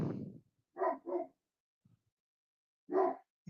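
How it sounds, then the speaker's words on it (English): Two big dogs, one a Great Pyrenees, bark in a quiet room: a single loud bark, then a close double bark, a faint low sound, and after a pause another loud bark. "two monster dogs"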